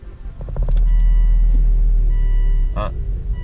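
A 2006 Volvo XC90 D5 185 diesel idling with a fault warning showing, a steady low engine rumble running throughout, with a short voice and a brief beep-like burst over it.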